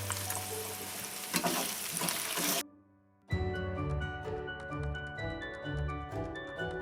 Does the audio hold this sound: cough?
no